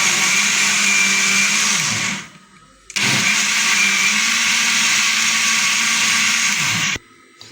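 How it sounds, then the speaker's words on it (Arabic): A loud electric blender mixing cake batter whirs continuously, stops briefly, then runs again for several seconds before cutting off. "ضربنا الخليط كده في الخلاط"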